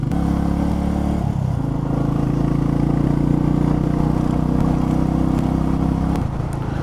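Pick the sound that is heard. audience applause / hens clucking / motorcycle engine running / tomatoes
motorcycle engine running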